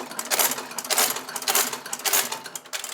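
At a custom saddlery, a sewing machine stitches saddle leather in a quick, rhythmic run of clattering bursts, close and fairly loud.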